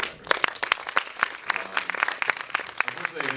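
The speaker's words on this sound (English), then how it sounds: "so we applaud you for the effort" Scattered clapping from the audience after a film Q&A with the directors of The ABCs of Death at AFI Fest 2012, sharp individual claps at an uneven rhythm rather than a full ovation, fairly close, with some talk mixed in.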